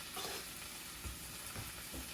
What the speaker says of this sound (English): I'm gonna let those sizzle a little bit